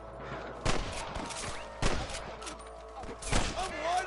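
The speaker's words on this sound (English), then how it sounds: "I can hear more gunshots" Gunfire in the Red Dead Redemption video game, three heavy booming shots spaced about a second apart, loud over a busy background of game ambience.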